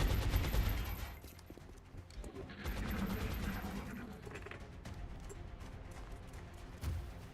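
Suppression gunfire in the strategy game XCOM Long War: a steady run of dense, rapid shots holds for several seconds at moderate loudness, with a heavier thump near the end and no voices.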